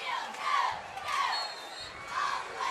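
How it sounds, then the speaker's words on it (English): A high school football crowd in the stands hollers and cheers in rising and falling swells, with shouts and whoops blending into a dense, loud roar. "Both sides standing, hollering, cheering their teams on."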